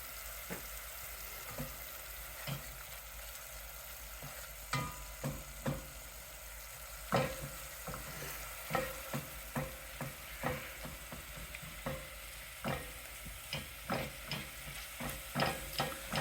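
A piece of steak sizzles and fries in a pan for steak Deburgo, a steady crackling hiss broken by frequent sharp pops and spits, close and moderately loud with no voices.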